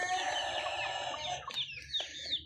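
Andijan chicks, vaccinated black young birds, cluck and chirp in a brief close flurry of overlapping high calls, a few sharp peeps standing out near the end.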